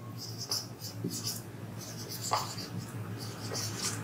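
Pen strokes as a logic statement is handwritten during a discrete mathematics lesson, producing soft, intermittent scratchy taps and scribbles close up over quiet room noise.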